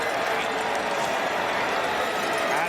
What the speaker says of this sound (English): Crowd booing and wanting a call.